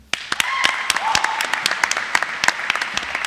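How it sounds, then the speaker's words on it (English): An audience claps for speaker Tom Monahan at a business honors society induction, a burst of applause that starts abruptly and stays dense with sharp individual claps standing out, with faint crowd murmur underneath. "Let's give him a round of applause."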